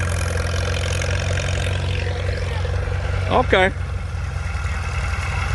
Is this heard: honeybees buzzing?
no